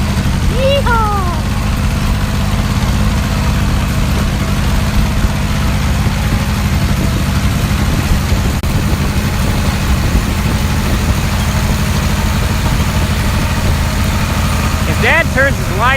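A tractor engine drones loud and low while its wheels spin in a planted field, running as a steady heavy rumble throughout with faint voices in the background.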